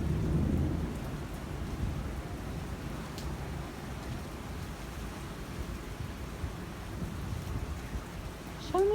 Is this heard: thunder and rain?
yes